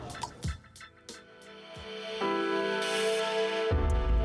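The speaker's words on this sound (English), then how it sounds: "They let me pour my own drink. I love the sound it makes." A drink being poured by hand, with clinks and drips at first, then a steady rushing fill of liquid into a cup that grows louder toward the end.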